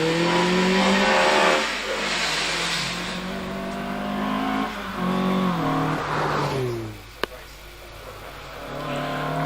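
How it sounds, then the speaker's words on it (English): A TVR Vixen 1800cc race car climbing a hill at a hillclimb event, its engine revving hard through rising gear changes, loud and fairly near, with commentary talk over it. "exiting the Torres on up towards Pardon in the TVR Vixen 1800cc machine"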